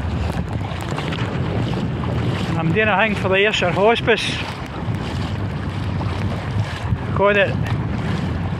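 Gusting wind buffets the microphone at Brassy Beach in South Ayrshire on a cold day, with surf rolling in beneath; someone talks over the roar at intervals.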